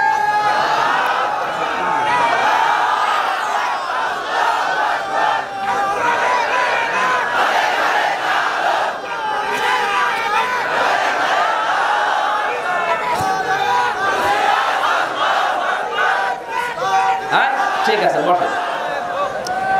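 A huge crowd at an outdoor Islamic sermon gathering in Godagari, Rajshahi, roars out a chant of Allahu Akbar, with massed voices swelling in a loud, sustained wave and a murmur of chatter beneath.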